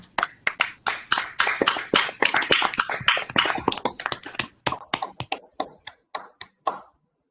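Applause for conference organizers at an academic meeting honoring a professor's 80th birthday: a small group claps steadily and briskly for several seconds, then thins out to scattered individual claps before stopping.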